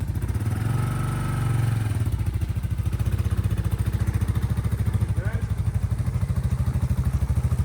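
A motorcycle carrying a pet pulls away on a test ride, its engine swelling briefly and then settling into a steady pulsing putter, moderately loud with faint voices early on.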